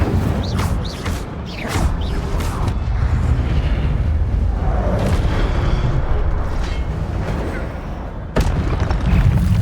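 Spellcasting in the Hogwarts Legacy video game, including the Incendio fire spell: loud booming bursts and whooshing blasts over a dense, rumbling game soundscape, with several sharp hits in succession.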